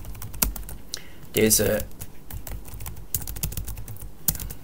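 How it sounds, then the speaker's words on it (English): Quick, uneven typing on a computer keyboard while coding in Python, with sharp close key clicks and a short burst of rapid strokes, and someone speaking briefly at the start. "today my typing is not great"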